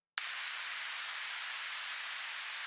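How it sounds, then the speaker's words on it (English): Noise sweep effect in a stutter house track: a sudden burst of bright, hissy white noise that holds steady and loud, with no voice, for the rest of the clip. "For the effects, I added noise sweeps"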